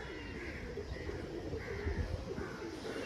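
Domestic pigeons of fancy breeds such as Saharanpuri and Kalshila coo softly at close range, with repeated low, throaty rolling calls over faint background noise.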